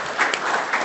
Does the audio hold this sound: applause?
yes